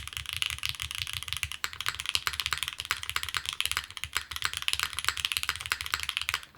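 Steady rapid keystrokes from a Neo65 Core Plus keyboard with bottom foam installed, producing a muted, foamy clatter with a continuous rhythm, heard close with no voices.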